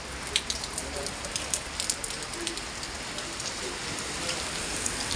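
Steady rain pours outdoors while someone walks through it, a dense close hiss of drops with scattered louder spatters, fairly quiet, with a faint voice at times.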